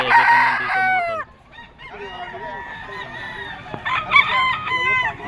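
A young rooster, a stag, crows at a busy Friday pet market in Bocaue, Bulacan, a loud close crow and then softer clucking and crowing, with faint market chatter behind.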